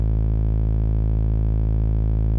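A steady, buzzing synth drone run through a distortion plugin, with a gritty distorted tone, thick in the low end, held continuously with no variation.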